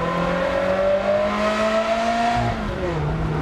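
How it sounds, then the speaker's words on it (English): A Ferrari 360 V8 engine revs high and smooth as the car accelerates, the pitch rising steadily and then dropping sharply on a downshift from third to second. "Oh, the car is dominated by that engine."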